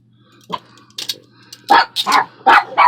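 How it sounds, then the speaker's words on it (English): A dog barks several times at close range, the sharp barks grouping into a quick burst near the end after a few scattered sounds, with no voices present. "No barking, you guys."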